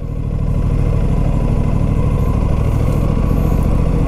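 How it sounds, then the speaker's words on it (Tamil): An Aprilia RS 457 with a 270-degree crank parallel twin drones steadily while riding in the city, its throbbing exhaust note loud and close with a rapid pulsing beat throughout and no talk. "270 degree கிராங்க், எக்ஸாஸ்ட் நோட் பயங்கரமாக இருக்குது"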